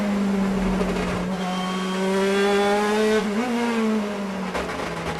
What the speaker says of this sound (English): And the sound of those cars.